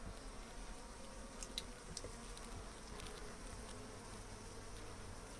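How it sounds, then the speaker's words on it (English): Bees buzz indoors near a hive opening, making a faint, steady insect hum with occasional closer passes, and nobody speaks. "So what do you do about the bees that are coming out of the top into the room now?"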